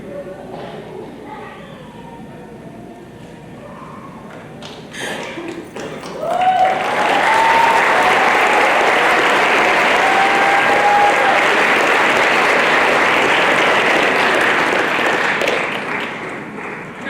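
At a graduation ceremony, a voice speaks briefly before a large audience breaks into loud, sustained applause that fills the rest of the clip and fades slightly at the end.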